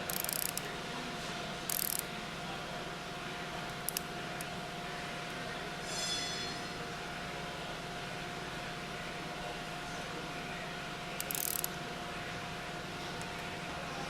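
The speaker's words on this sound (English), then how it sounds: "Start with the center bolts and alternately tighten them to help ensure proper positioning of the" Ratchet tightening the retaining bolts on a General Pump manifold during KF packing stack service, heard as a few short, faint clicking bursts spread over a low, steady background hum.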